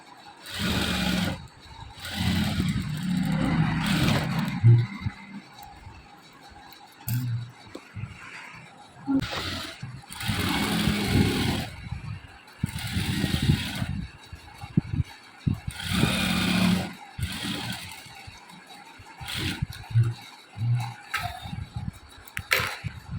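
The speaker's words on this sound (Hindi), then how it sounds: "हम एक और सिलाई यहाँ पर कंप्लीट कर रहे हैं" A sewing machine stitches kurti fabric in repeated bursts of rapid mechanical whirring, each lasting a few seconds and separated by quiet pauses, close and moderately loud.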